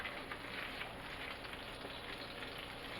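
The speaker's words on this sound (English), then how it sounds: "add a whole stick of butter. And then maybe about 2 more tablespoons." A whole stick of butter melting and sizzling in a pan, a steady soft crackle and hiss that is fairly faint and continuous, with no talking.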